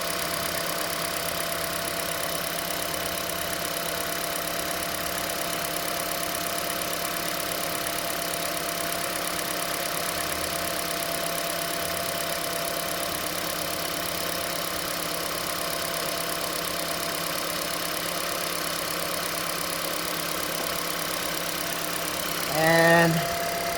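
A 2012 Toyota Prius engine idles steadily for over twenty seconds after K-Seal is poured in to patch a coolant leak, a constant close hum and rattle with a brief bump near the end.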